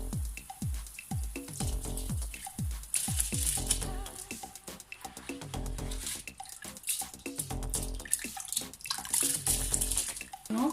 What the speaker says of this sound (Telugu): ఇప్పుడు మనం రైస్ వేసేసుకుందాం